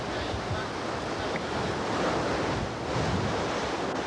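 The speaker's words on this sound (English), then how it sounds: "nursing the big boat against the waves, bruising them but not bursting them" Ocean waves surge and wash against a big racing yacht in the Sydney to Hobart race on its first night out, a steady, dense roar of surf and spray with wind buffeting the microphone throughout.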